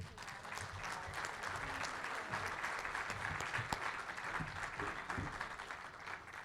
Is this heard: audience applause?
yes